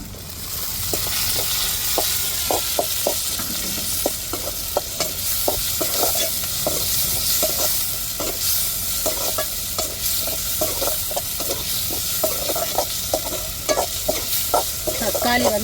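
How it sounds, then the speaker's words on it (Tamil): Tomatoes, onion, ginger-garlic and chili sizzle steadily in a pan, with a spoon stirring in quick repeated scrapes over the constant frying hiss, close up and with no talking. "இப்போ நல்லா வதங்கட்டும் தக்காளி"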